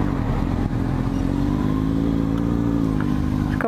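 A car engine revs high nearby, a loud, sustained droning roar with strong harmonic tones that holds steady for several seconds, with no one speaking.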